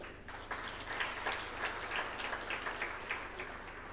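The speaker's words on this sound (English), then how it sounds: "Maybe a clap for them." Steady applause from a sizable crowd at the launch of the Kenya Economic Report 2025, many hands clapping together for several seconds at moderate volume.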